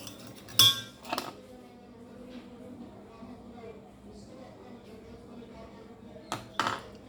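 A utensil clinks against a bowl while a mixture is stirred, with a few sharp metallic chinks near the start and end and quieter mixing noise in between, close by.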